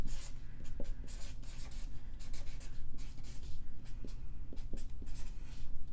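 Pen or marker scratching out the Bernoulli equation by hand during a fluid transport physics lesson, a steady run of close, busy writing strokes with short taps, no talking.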